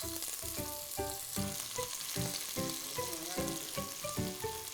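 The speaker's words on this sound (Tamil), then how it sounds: "ஒரு 3 வெங்காயம் கட் பண்ணது நல்லா வதக்கலாம்." Three chopped onions fry in a pressure cooker for chicken biryani. The sizzle is steady and crackling, with rhythmic stirring scrapes repeating about every half second. It sounds close and moderately loud, with no speech.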